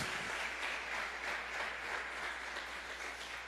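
Church congregation clapping during a sermon, a steady wash of applause at low level, fairly distant and continuous throughout with no talking.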